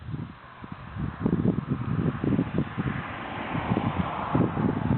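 Wind of about 10 to 12 miles an hour gusts across an outdoor shooting range, buffeting the microphone with a steady rumbling rush and repeated low thumps, close and fairly loud.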